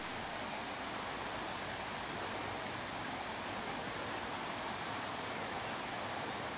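A waterfall near an old, rickety wooden bridge at Skenfrith gives a steady, dense rush of falling water, unbroken and even throughout, with no voices.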